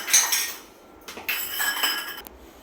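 A spoon stirs egg dosa batter in a bowl, giving off bright metallic clinks and scrapes in a few uneven bursts, close up, with no talking.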